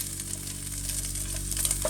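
Bacon fries in a pan outdoors at a campsite by springs, giving a loud, close, continuous sizzle and crackle with no voices.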